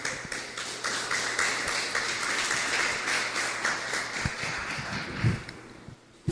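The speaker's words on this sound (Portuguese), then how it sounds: "Palmas bem alegres para Jesus." Congregation applause at a church service rolls on steadily for several seconds, a dense wash of hand claps with a few louder taps near the end.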